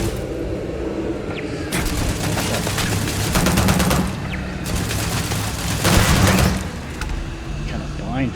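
In a Starfield firefight, gunfire rattles in dense bursts of rapid shots mixed with booms, loud and close, while someone talks over the fighting.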